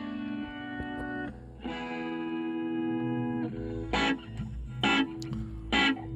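Dry electric guitar played back from a Tascam 38 reel-to-reel tape machine, sustained chords ringing out and then short, sharp strummed stabs, all without reverb and with no voice.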